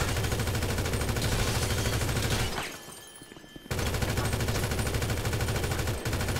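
Rapid automatic gunfire from a mercenary shootout in the video game GTA V, a dense continuous burst that breaks off briefly for about a second, then resumes just as loud.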